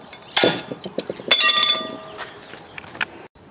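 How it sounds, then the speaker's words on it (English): A homemade seal puller on a slide hammer yanks at a seal, giving a few sharp metallic clanks and ringing strikes, loud and close, followed by quieter rattling taps. "We'll take and pull this seal out of here."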